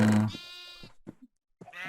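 A Minecraft sheep bleats in a short, wavering cry that comes right after a louder opening burst, with a brief bleat-like call following after a pause.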